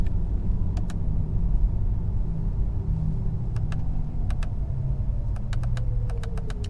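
A 2022 Porsche Taycan rear-wheel-drive electric car cruises through Annapolis, its motor giving a soft steady whir over low road rumble, with a faint rising tone near the end and scattered light clicks.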